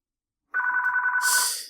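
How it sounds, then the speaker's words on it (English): A telephone rings once in the background, a short trilling electronic bell that starts abruptly and ends with a brief hissy burst. "And the phone is ringing in the background."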